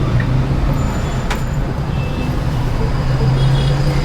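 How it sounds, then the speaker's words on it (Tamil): Heavy city traffic around buses at Madiwala, Bangalore, with a dense, continuous roar of engines and road noise, low bus engine rumble, and a brief sharp hiss or horn-like burst midway. "டிராஃபிக்குங்க, ஊர் ஃபுல்லாக டிராஃபிக்கு."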